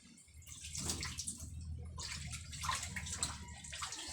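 Scaled tilapia is rinsed under running water, a steady close splashing and sloshing that rises and falls as the fish is turned and rubbed.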